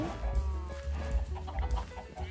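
Chickens cluck in the video game Minecraft, several short, repeated clucks over a steady low background hum, fairly close and moderately loud with no talk.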